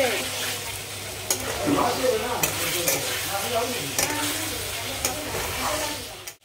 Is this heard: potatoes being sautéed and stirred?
yes